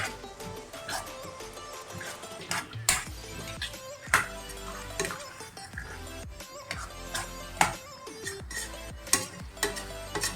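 Metal spatula scraping and clanking against a pan as masala and black peas are sautéed over high heat, with a background sizzle, rhythmic stirring strokes and sharp pings, fairly close and loud.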